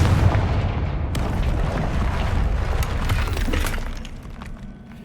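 A Confringo blasting spell explodes in the game Hogwarts Legacy, a loud burst with shattering debris and rumbling crashes that scatter over several seconds, then fade.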